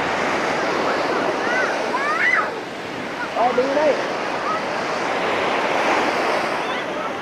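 Steady roar of ocean surf washing onto Bai Sau beach in Vung Tau, Vietnam, with wind buffeting the microphone and a few brief spoken words partway through.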